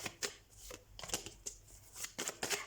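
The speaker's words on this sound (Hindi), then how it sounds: "मुझे कार्ड्स उठाने दीजिए।" Tarot cards are picked up and shuffled in a weekly Leo reading, giving a series of crisp papery riffles and snaps in irregular bursts, close and fairly quiet, with no talking.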